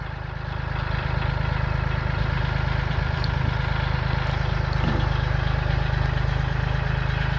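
Loud, steady diesel engine of a Kubota L32 tractor running at a constant throttle, a dense low chugging drone close by with no voices.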